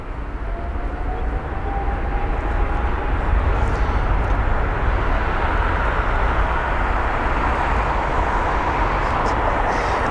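An airliner taxiing at London Heathrow, a loud, steady jet engine roar with broad rushing noise and a faint rising whine, heard continuously from fairly close.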